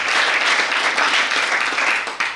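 A church audience at a peace-ambassador ceremony for an EAGT archbishop breaks into loud, sustained applause, many hands clapping densely and evenly with a slight dip near the end.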